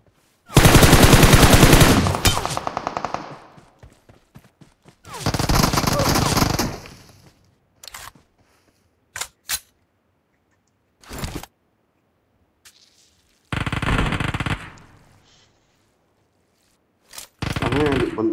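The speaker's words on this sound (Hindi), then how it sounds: "यहाँ कहीं से फायरिंग चल रहा है यार" Automatic rifle fire from an M416 in a PUBG match on the Livik map, heard as several loud bursts separated by pauses and a few single shots. A voice talks briefly between the bursts.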